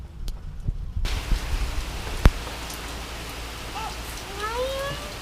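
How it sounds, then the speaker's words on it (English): Rain falls outdoors on a day of working on a Nissan Pathfinder's exhaust, a steady soft hiss of drops with one sharp tap and a few faint bird chirps in the background. "And here comes the rain."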